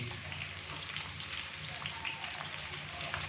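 Okra (bhindi) frying in a pan for a keema dish, giving a steady dense sizzle that runs unbroken throughout, close and fairly loud.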